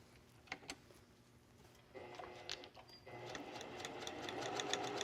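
Sewing machine stitching along bias tape on silk, starting with a few slow clicks and then running into a steady, rapid, close mechanical patter that builds slightly louder.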